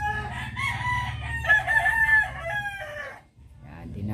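A rooster crows loudly and close by at a cockfighting venue, one long drawn-out call over a steady low crowd murmur, followed by a brief dip and then renewed background noise.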